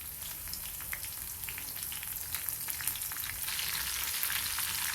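A tempering of garlic, cumin, curry leaves and green chilies fries in hot oil, giving a steady close sizzle with crackling pops and occasional stirring scrapes, with no talking.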